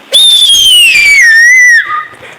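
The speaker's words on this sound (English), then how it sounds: "How many times do you whistle?" A person whistles a single loud, clear tone that slowly slides downward over about a second and a half, close to the microphone, then stops abruptly with a brief lower trailing note; no talking.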